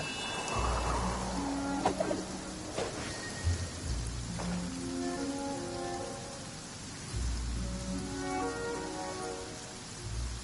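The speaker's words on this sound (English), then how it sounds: "Taking a stroll in the middle of a downpour certainly rouses the spirit." Heavy downpour in Genshin Impact, a steady hiss of rain with low rumbles of thunder, while a voice speaks briefly over it.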